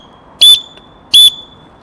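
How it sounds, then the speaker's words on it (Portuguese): Two short, piercing blasts of an emergency whistle, evenly spaced, loud and close, with quiet between. "Um apito de emergência tem esta utilidade"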